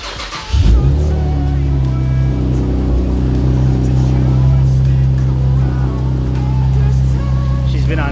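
A car that has sat on stands for a while fires up after a brief crank and settles into a loud, steady, rumbling idle close by, running continuously to the end.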